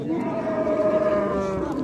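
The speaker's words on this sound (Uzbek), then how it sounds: "Buna bolali sigir, sog'in sigir ekan." A dairy cow with a calf moos at a livestock market, a long drawn-out low call held steadily near the microphone with market crowd noise underneath.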